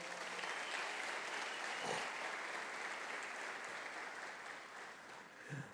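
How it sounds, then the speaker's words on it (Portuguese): A church congregation claps together in a full, continuous round of applause, fairly quiet overall and holding steady for several seconds before tapering near the end. "Dê mais um aplauso bem forte ao Senhor."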